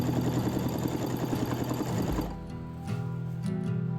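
A sewing machine runs a stay stitch along bias-cut trouser fabric at the buttock curve, a fast close mechanical whir for about two seconds that stops, then a softer hum and a few faint clicks.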